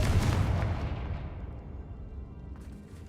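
A Confringo fire spell explodes in Hogwarts Legacy with one loud, close blast that rolls into a long fading rumble. No one speaks.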